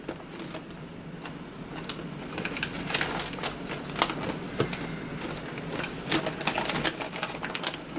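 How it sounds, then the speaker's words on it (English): Double-sided tape is pulled and pressed onto gift wrap paper, giving faint, irregular crinkling and tapping sounds at close range with no talk. "Double-sided tape. The same with the bottom."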